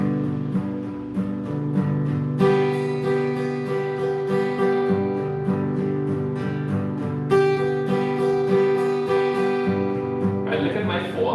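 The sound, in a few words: guitar strummed at full speed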